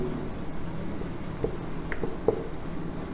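Marker or chalk writing "sandy soil" on a board, faint scratchy strokes with a few sharper taps heard under a low, steady room hum during a science lesson on soil types.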